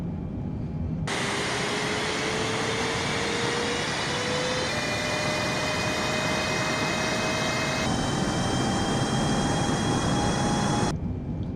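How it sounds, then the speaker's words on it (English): Airliner jet engines roar steadily through a takeoff roll in Microsoft Flight Simulator, a loud continuous rumble with a whine that climbs in pitch as the thrust holds, then cuts off abruptly at the end. "we are clear for takeoff, 17 right, parking brake is released"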